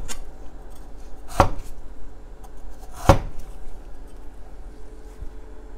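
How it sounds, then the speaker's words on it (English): A kitchen knife cuts raw bitter melon into thin diagonal strips on a cutting board, giving two distinct sharp chops about two seconds apart over a low steady hum, close by with no talking. "We will cut like 45 degrees in thin strips."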